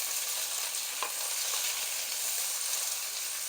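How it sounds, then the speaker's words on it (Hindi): Capsicum, tomato and onion stir-fried on high heat, a loud continuous sizzle and hiss with faint stirring scrapes, close and steady throughout. "सब्जियों को सर्व फ्राई करेंगे,"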